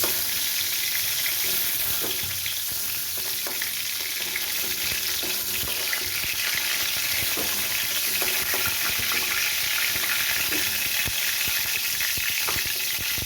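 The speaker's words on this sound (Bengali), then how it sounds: "এই একই রকমভাবে আমি বাকি কতগুলো ভেজে নিচ্ছি" Pointed gourd (potol) fries in a pan with a steady, close, unbroken sizzle and crackle of hot oil, with no voices over it.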